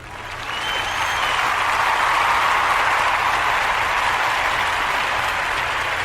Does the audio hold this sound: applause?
yes